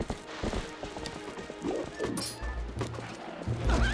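Horse hooves clip-clop in the Zelda Twilight Princess video game, a quiet rhythmic trot among game music and effects, with a brief whinny-like cry near the end.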